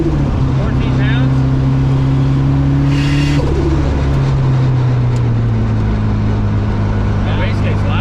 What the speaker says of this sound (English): The wastegate's loud.